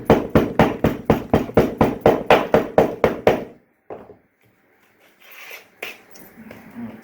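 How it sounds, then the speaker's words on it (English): Sand rammed into a casting flask with a hammer from behind: about fourteen quick, evenly spaced hard knocks, loud and close, then a pause, a lone thud and faint scraping and shuffling. "start by filling up this flask. Male side first, lip down, hammer it from behind."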